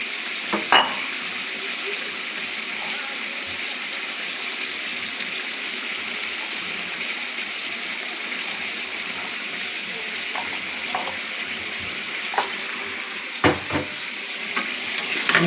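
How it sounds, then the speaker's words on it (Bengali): Coriander leaves stirred into a curry frying in oil, a steady close sizzle with scraping spoon strokes and occasional sharper clinks toward the end, no voices. "এবার ধনে পাতা অ্যাড করে দেবো।"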